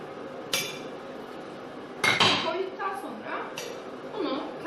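A spoon stirring a melted chocolate mixture in a bowl, giving scattered clinks and scrapes of utensil against the bowl, with someone talking over them.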